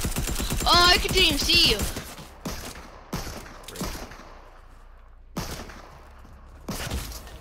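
Bursts of submachine gun fire in Fortnite: sharp, rattling volleys spaced a second or two apart, with a player talking over the first part.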